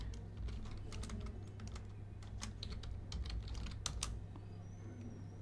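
Computer keyboard typing, a steady stream of light, uneven key clicks close up over a constant low hum, with no voices.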